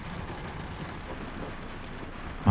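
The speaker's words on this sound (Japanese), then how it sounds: "またゲリラ豪雨です。" A heavy sudden downpour drums on a used camper van parked overnight at a roadside station in Nagano, a steady even hiss of rain heard from inside, fairly quiet and constant with no voices.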